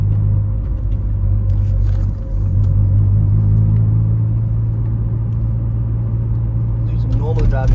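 Honda Civic EP2 driving at night, heard from inside the cabin as a steady low engine and road rumble that continues throughout, with a faint higher whine near the end.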